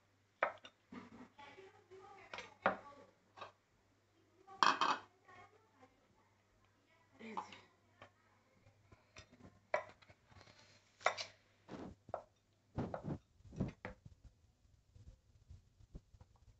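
A knife taps and chops through a vegetable on a board while its skin is cut away, in irregular clusters of sharp, close cuts with quiet pauses between.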